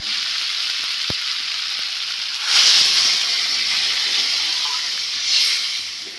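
Water goes into a pan of tilapia, kohlrabi and potato curry, giving a loud, steady frying sizzle and hiss that swells into two brief steamy surges, close by and with no voice.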